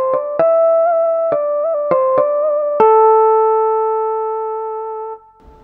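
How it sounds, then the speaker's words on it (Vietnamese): A Kurtzman K350 keyboard plays its stock đàn bầu (Vietnamese monochord) voice, preset 653. Several bright, sustained notes with pitch glides are followed by one long held tone that fades away, with no other sound. "Rồi mình sẽ cho các bạn nghe thử tiếng bầu gốc của cái đàn."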